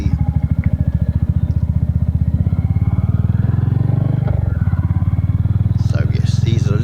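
A Royal Enfield Hunter motorcycle rides along narrow country lanes, its engine a loud, steady pulsing thump close to the microphone, slightly rising and easing, with some wind and clatter.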